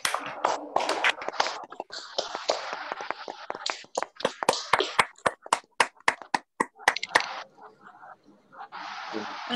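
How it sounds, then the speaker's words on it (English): Participants in an online theatre festival meeting clap after unmuting their microphones: scattered, uneven hand claps from several people, some close and sharp, arriving in bursts with gaps, with bits of background noise between them. "1 second के लिए हम सब unmute करके clapping कर सकते हैं"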